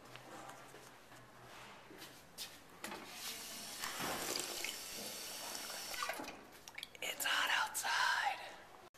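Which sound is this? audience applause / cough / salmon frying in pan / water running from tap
water running from tap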